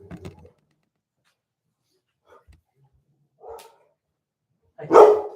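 A small dog barks at someone walking past during an indoor handstand and calisthenics livestream, giving a few scattered yips and then one louder, close bark near the end, with near silence between them.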